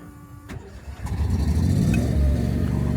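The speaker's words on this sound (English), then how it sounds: "let's start the generator up." The generator on a 2020 Ford F-450 Altec AT200A bucket truck cranks after a click, catches and settles into a steady low running rumble that grows louder and holds, heard close by.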